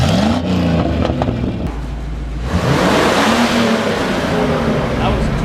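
Mini Cooper with stock exhaust revved hard to the floor, the engine note sweeping up and down in loud, close surges.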